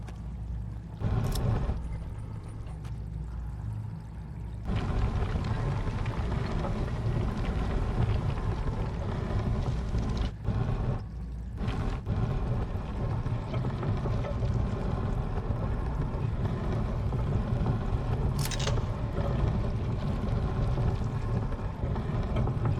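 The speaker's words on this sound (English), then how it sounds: "There, that's got the water flowing." Steady rushing water in a video game, Echoes of the End, after a prism lock is solved, a loud continuous wash with a brief break and a few sharp clicks, no talking.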